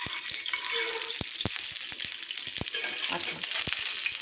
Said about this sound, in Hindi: तवे के ऊपर हमने ऑयल डाला